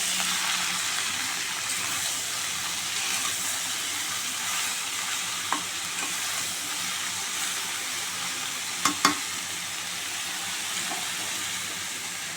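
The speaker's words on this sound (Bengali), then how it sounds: "কড়াইতে তেল গরম হয়ে গেছে, তেলে আমি কালো জিরা তেজপাতা ফোড়ন দিয়েছি।" Hot oil sizzles steadily in a wok with black cumin seeds and bay leaf, a constant bright frying hiss with a few small clinks and pops from the pan, no voices heard.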